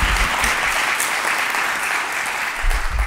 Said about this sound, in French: Et on peut vous applaudir pour vous encourager.